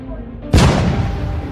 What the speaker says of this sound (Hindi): गुल्ली तो पटाखे फोड़ रहा है।